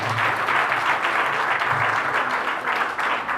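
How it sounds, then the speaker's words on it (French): Sustained applause from a gathered audience at a civil wedding ceremony at the registry office, steady and fairly loud throughout, dense clapping with no break and no speech on top. "On applaudit pour elle."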